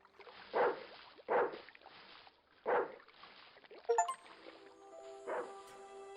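Dog in the video game Broken Sword: The Smoking Mirror, giving a few loud, evenly spaced barks, followed by bright chiming game tones and a sustained musical note.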